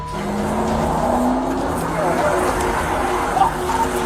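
A stolen police patrol car pulls away with its engine revving loudly and tires squealing, a steady close roar that runs the whole time with faint voices underneath.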